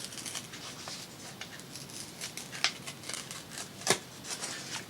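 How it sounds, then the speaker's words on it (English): Paper envelope being torn open, a quiet close-up sequence of soft crinkles with two sharper ripping snaps, no voices over the faint hiss. "we're going to need to open this envelope up"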